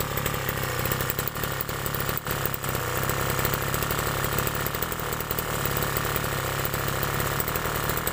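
A new gasoline grass cutter engine runs steadily up close, a loud, continuous buzzing drone with rapid firing pulses and no talk over it.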